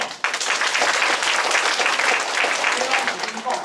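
An audience at a political lecture on Taiwan's government claps in steady, dense applause that starts abruptly and fills the room, loud and sustained, with some talking faintly underneath.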